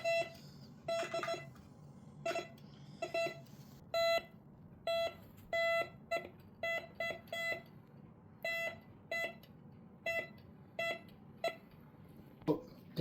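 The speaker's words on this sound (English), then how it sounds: "The beep can detect metal underground." Cheap Temu metal detector emitting short electronic beeps in irregular bursts, some single and some in quick doubles, close and clear over a low background hum.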